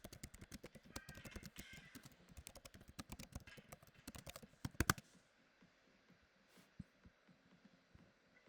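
Quick typing on a computer keyboard to jot down a note: a close, irregular run of light key clacks lasting several seconds, then a sharp burst of louder taps and a near-silent pause with a stray click.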